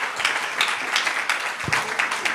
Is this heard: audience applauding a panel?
yes